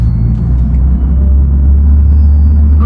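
Engine of a Mercedes CLA 55 with a manual gearbox pulling in second gear, a steady loud low rumble throughout, close and continuous with no talk.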